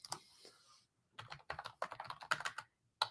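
Someone types on a computer keyboard, producing quick runs of soft key clicks in irregular bursts, close and quiet, with a short pause partway through.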